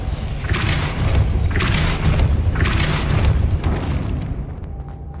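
The Depulso spell cast in the video game Hogwarts Legacy: four heavy, booming blasts at roughly one-second intervals, loud and near, each with a forceful rush, then quieting at the end.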